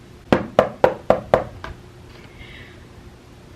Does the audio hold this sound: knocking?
yes